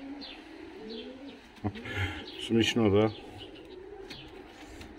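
Fighting pigeons at a breeding loft coo in soft, repeated throaty calls, fairly close, with a person speaking briefly over them partway through.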